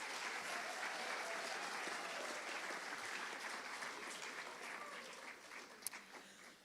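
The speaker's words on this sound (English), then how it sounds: "give a round of applause to the sophomore and junior math" Audience at a high school awards ceremony applauds the sophomore and junior math students, a steady, fairly distant wash of clapping that slowly tapers over about seven seconds.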